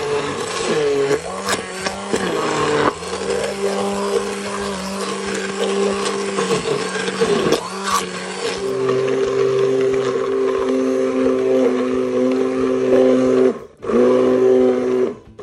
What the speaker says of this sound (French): à l'aide d'un pied mixeur, on va mixer la texture obtenue.